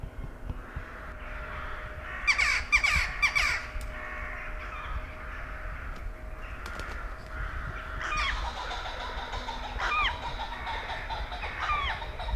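Crows cawing at their evening roost, several harsh calls in bursts near and far, repeated over a constant low background hum, with a second cluster of caws toward the end.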